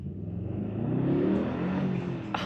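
A 2026 Mercedes-AMG GLS 63 engine revs hard during a quick acceleration pull, rising into a loud, building roar that holds for about two seconds and then drops off abruptly.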